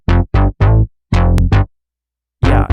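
A chopped bass loop, unprocessed, plays as short separate notes in a stop-start pattern, close and fairly loud, with a long pause before a final hit.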